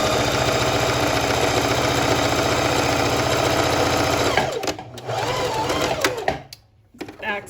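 Sewing machine zigzag stitching a fabric mask, a loud steady close motor whir with rapid needle chatter for about four seconds, then shorter bursts of stitching after a brief stop.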